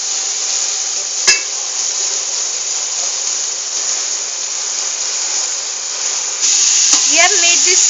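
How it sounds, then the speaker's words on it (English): Onions and garlic fry in a pan for a Punjabi kadhi pakoda, giving a steady, close crackling sizzle throughout, with a sharp knock near the start and clattering utensil sounds toward the end. "You can hear the sound of the onions crackling up with"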